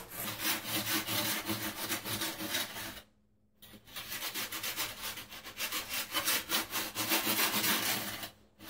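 Float rubbed back and forth over mortar on a shower curb, giving a steady rhythmic scraping with one brief pause midway, close and fairly quiet, with no talking.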